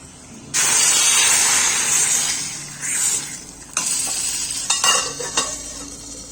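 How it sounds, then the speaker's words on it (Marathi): Browned garlic tempering poured into spinach bhaji, cooked the village way, erupts in a loud, sustained sizzle with spitting and stirring clatter, then settles into bursts of hissing and pan scrapes. "आता लसूण एकदम ब्राऊन झालेला आहे ब्राऊन कलर आला त्याला आता आपण याला ही फोडणी द्यायची आहे"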